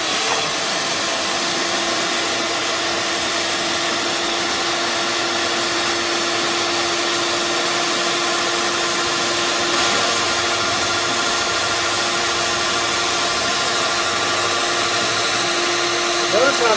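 Compressed air blown over a bear skin being cleaned for tanning, a loud steady hissing rush with a constant whining tone running unbroken from start to finish.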